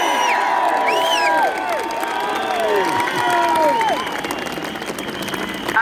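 A large crowd at a rally in Trafalgar Square, London, applauds and cheers, with dense clapping mixed with whoops and shouts. The applause eases slightly toward the end but stays loud and continuous.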